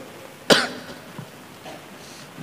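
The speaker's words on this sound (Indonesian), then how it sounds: "Batuk kai." An old man gives a single sharp cough, loud and close, followed by quiet room tone.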